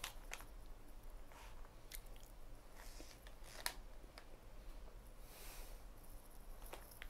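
Someone chews a rubbery silica gel sweet, producing faint, close, moist squishing and biting clicks at an irregular pace over quiet background hiss, with no talking.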